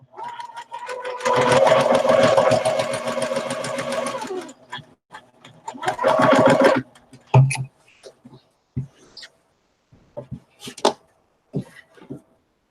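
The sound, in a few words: sewing machine chain sewing quilt pieces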